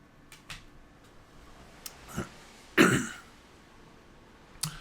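A single person coughs and clears their throat in a quiet indoor room, with one loud, close cough burst standing out among a few softer throat sounds and faint ticks.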